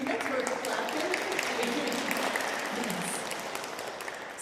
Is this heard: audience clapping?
yes